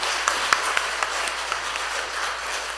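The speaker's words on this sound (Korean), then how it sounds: "우리 목사님 나오실 때 다시 한 번 더 크게 박수로 환영하겠습니다" Church congregation clapping to welcome the pastor at a New Year Holy Spirit revival evening service, a steady wash of applause with a few sharper claps standing out near the start.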